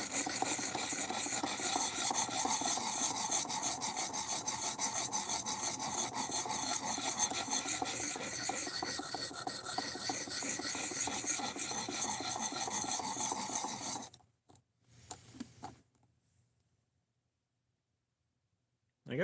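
A file rasps in steady, rapid back-and-forth strokes across the bevel of a D2 steel knife blade, loud and close for about fourteen seconds, then stops abruptly, followed by a short scrape and near silence.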